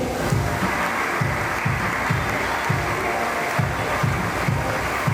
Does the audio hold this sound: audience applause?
yes